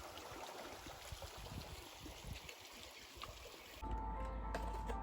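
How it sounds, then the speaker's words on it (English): A small creek trickles and babbles steadily on its own, with a faint continuous flow and no voices; a wind-like rumble swells near the end. "Look at this little creek here."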